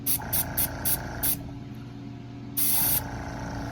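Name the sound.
paint spray gun spraying car paint chip repair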